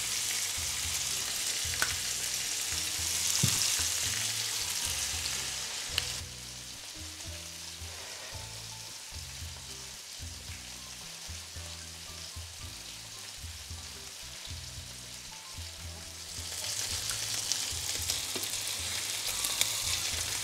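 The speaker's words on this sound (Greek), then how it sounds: "Και περιμένουμε να τηγανιστούν." Pork belly slices sizzle and crackle in a hot frying pan, loud at first, quieter in the middle, then swelling again as the frying intensifies.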